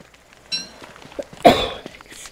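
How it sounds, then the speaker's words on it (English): A single sharp human cough bursts out close to the mic after a few soft mouth noises, brief and fairly loud against an otherwise quiet background. "I cough."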